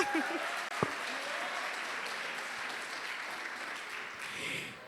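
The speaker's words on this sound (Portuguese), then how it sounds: "Você pode aplaudir o Senhor quando eu tomo água." A church congregation claps in broad, steady applause that fills the space, sustained throughout at moderate loudness with a brief lull near the end.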